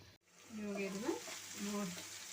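Capsicum frying in hot oil gives a steady soft sizzle that continues for a couple of seconds, with a voice-like tone heard over it.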